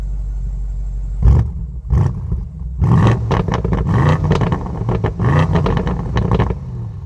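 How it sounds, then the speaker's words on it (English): BMW M850i Gran Coupe V8 revved while parked, giving several sharp throttle blips that rise and fall over a low idle rumble, close and loud. "Let's do another little rev time."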